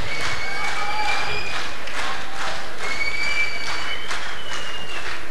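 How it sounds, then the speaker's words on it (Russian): Concert audience in Kazan applauding, dense sustained clapping from a large crowd with a few whistles, loud and continuous throughout. "Спасибо, Казань, спасибо за теплые аплодисменты."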